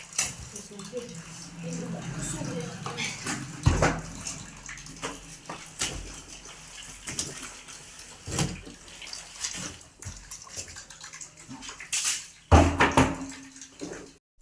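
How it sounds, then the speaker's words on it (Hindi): Clothes being washed by hand give wet sloshing and splashing with occasional thumps and slaps of fabric, fairly close and irregular, while someone talks over the sounds. "तो मैं धो रही हूँ यहाँ पे कपड़े"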